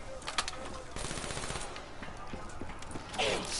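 Video game gunfire crackles in rapid bursts, with a fast run of sharp shots in the first second and denser firing later, all under constant game noise and voices.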